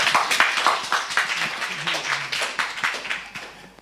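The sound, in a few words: applause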